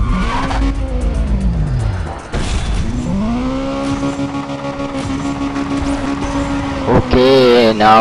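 Race cars in the video game Need For Speed Undercover, including a Lotus Elise, roar loudly as the race starts, with sustained engine drone, rising revs and sharp tire squeals close up throughout.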